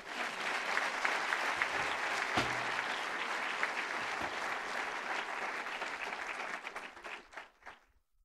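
A county executive receives a sustained round of audience applause at a Leadership Montgomery event, dense steady clapping from a large crowd that holds for several seconds before thinning out and fading near the end.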